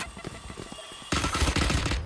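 Gunfire in the tactical shooter game Valorant, a rapid rattling burst that starts abruptly partway through and stays loud, following quieter clicks and game noise.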